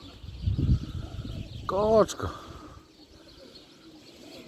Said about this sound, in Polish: O, przyszedł gołąbek.